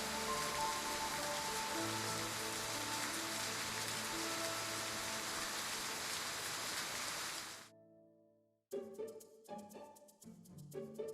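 Dense, even rainfall hisses loudly for several seconds over soft sustained music, then cuts off abruptly, leaving only brief musical notes.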